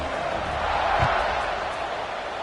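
Stadium crowd noise from an NCAA 26 college football video game, a steady broad roar of many voices holding at a constant level throughout, with a brief low thump near the middle.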